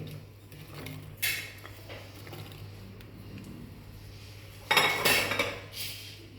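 Small and large onions drop into a pressure cooker while making bisi bele bath: two short bursts of clatter and metal clinks against a quiet kitchen background, with no talking.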